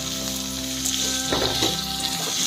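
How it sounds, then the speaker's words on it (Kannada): Onions fry in a pan with a continuous near sizzle, steady and fairly loud throughout, with a few brief stirring scrapes in the middle and no talk. "ಸ್ವಲ್ಪ ಹೊತ್ತು ಚೆನ್ನಾಗಿ ಫ್ರೈ ಆಗಬೇಕಿದೆ."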